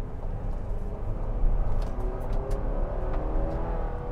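2024 GMC Acadia Elevation AWD SUV accelerating after a right turn onto a road: engine and road noise heard from inside the cabin, with a broad rushing rumble that swells and holds steady and engine tones rising gradually.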